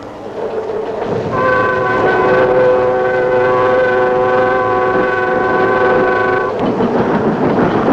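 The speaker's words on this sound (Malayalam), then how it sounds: "ട്രെയിൻ വന്നു." A passenger train pulls into a railway platform, its rumble and clatter rising to fill the scene while a long sustained horn blares loudly over it for several seconds before fading back into rolling wagon noise.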